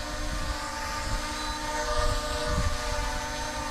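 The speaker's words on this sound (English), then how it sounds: "there's the drone" Holy Stone HS360E drone flying outdoors over bare autumn trees, a steady whirring drone held under broadband wind-like noise, fairly constant and moderately distant throughout.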